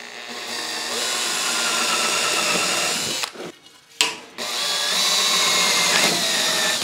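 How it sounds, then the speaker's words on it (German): A power drill bores 5 mm holes for mounting cable ducts, running steadily and loudly up close, then briefly stopping and slowing before starting again and carrying on to the end. "bei der Markierung bohre ich jetzt einfach Löchlein rein. Ich mache jetzt dann ein Fünferloch"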